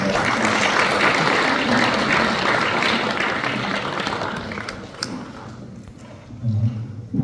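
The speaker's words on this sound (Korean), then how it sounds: "다시 한번 뜨거운 박수로 환영해 주시기 바랍니다" A church assembly audience gives warm applause to welcome a general assembly candidate, dense clapping that slowly thins and fades, then a few scattered claps and a nearby voice near the end.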